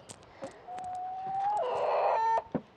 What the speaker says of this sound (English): See if we have any chickens in the nesting box